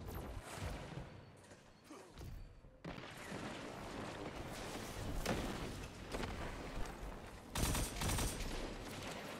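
Shotgun blasts in the Destiny 2 shooter game, several loud close booming shots with mechanical clatter between them over a dense, busy game soundscape.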